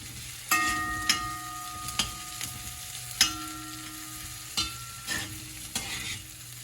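Onions and garlic frying in a pan, with a soft continuous sizzle broken by repeated scraping stirs and clinks of a utensil against the pan, close and moderately loud.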